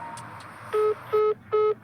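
Three identical electronic beeps, evenly spaced and loud, the disconnect tone of a call being cut off.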